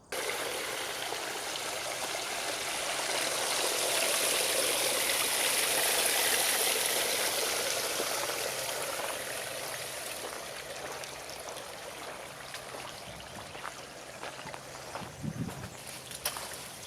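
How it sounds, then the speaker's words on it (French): Garden watering outdoors at the end of a day of lawn mowing, giving a steady broadband hiss of spraying water that swells in the middle and eases off, with a few faint bumps near the end. "Je vais faire un peu d'arrosage."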